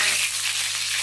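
Ginger and scallions fry in oil over low heat, giving a steady, close hiss of gentle sizzling that holds evenly for about a second.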